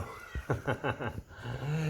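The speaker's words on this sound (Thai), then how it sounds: "มีแต่น้องแมว" A domestic cat meows indoors in a room, a quick series of about four or five short, bright calls close to the microphone, followed by a lower drawn-out sound.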